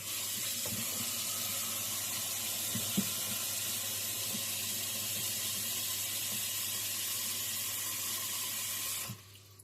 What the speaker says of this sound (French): Donc ici, on va y mettre de l'eau chaude.